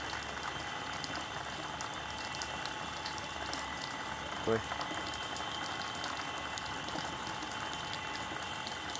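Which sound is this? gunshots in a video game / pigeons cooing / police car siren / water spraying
water spraying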